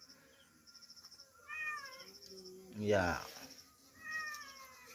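A cat meows repeatedly nearby while skipjack tuna is being cut, a few short rising cries followed by a louder drawn-out call, with a person briefly speaking.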